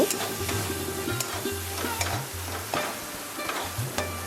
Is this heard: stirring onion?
yes